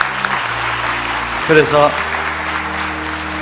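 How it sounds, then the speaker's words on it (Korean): Church congregation claps for a family of six during Sunday worship, steady broadband applause throughout with a brief spoken word and a short tonal sound in the middle. "6 식구 박수 한번 쳐줘."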